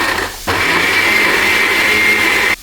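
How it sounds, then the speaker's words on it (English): A kitchen blender whirs loudly as it blends beetroot, starting abruptly after a brief moment and running in a steady high-pitched whine for about two seconds before cutting off. "Me have some beetroot in the blender. I'm going to blend it."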